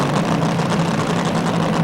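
Tractor-pulling vehicle with a naturally aspirated aluminum Rodak engine, no supercharger, idling at a 1987 truck and tractor pull in Louisville, Kentucky; a loud, steady, deep rumble that carries on continuously with no voices.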